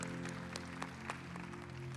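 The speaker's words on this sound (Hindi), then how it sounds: "तो अंकल के लिए एक तालियां बजाएंगे ज़रूर" Faint applause from a church congregation during a Hindi service, soft scattered claps over a steady low electrical hum, distant and quiet throughout.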